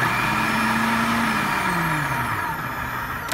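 A Braun Multiquick FP5150 food processor runs steadily, a loud, continuous motor whir with a faint pitch drift and no break, heard alone.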